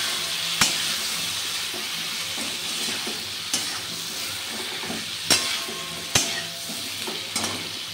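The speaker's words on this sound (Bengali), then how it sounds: "ঝিঙেটা দিয়ে আমি খুব ভালোভাবে এটা নাড়িয়ে চাড়িয়ে একটু ভেজে নিচ্ছি ঝিঙে আলুটার সাথে" Ridge gourd and potato frying in a pan, with a steady broadband sizzle throughout and a few sharp clinks of a spatula or ladle as the vegetables are stirred.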